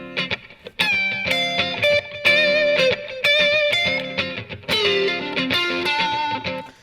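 An electric guitar plays distorted notes through a Strymon Timeline delay pedal, with each phrase followed by soft repeating echoes and a sustained tail, loud and close.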